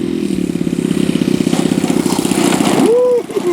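Top Flite Cessna 182 Skylane RC model plane's engine runs loud and near with a buzzing, pulsing drone that rises briefly as the throttle moves, then drops; a voice talks over part of it.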